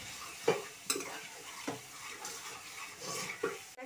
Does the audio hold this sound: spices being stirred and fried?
yes